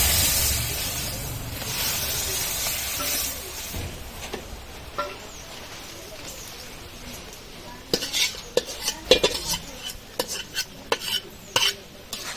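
Dal being added to a pot of fish-head muri ghonto and stirred, with a steady hiss in the first seconds giving way to scattered clinks and scrapes of a spoon against the pot.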